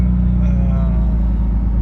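A car with a 2JZ engine swap rumbles along on the road with a low, steady engine drone close by, while a voice talks over it.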